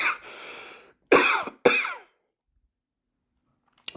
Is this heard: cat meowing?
no